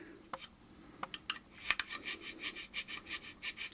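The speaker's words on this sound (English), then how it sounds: "we'll just file this up here" A metal file smooths off a burr in a quick series of rhythmic rasping strokes, up close and fairly quiet, with no talking.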